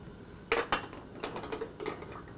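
Glass canning jars clink against each other and the pot as they go into boiling water for canning salmon, two sharp knocks followed by several softer taps over a low bubbling background.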